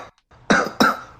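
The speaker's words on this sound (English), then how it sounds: "Cough, cough." A person coughs twice in quick succession, close and fairly loud, with a short soft rustle just before. There is no talk.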